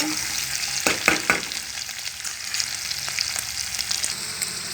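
Onions cook in a pan, with a soft, continuous sizzle and a few quick spoon scrapes near the beginning.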